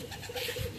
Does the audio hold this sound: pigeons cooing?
yes